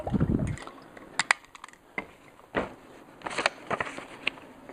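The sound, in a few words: pouring a drink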